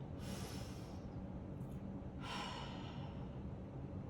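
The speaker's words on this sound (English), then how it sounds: "We're just gonna take some nice inhales and exhales, this time in the nose and out the mouth" Slow yoga breathing, in through the nose and out through the mouth: two soft, airy breaths a couple of seconds apart over a constant low background hum, faint and without talking.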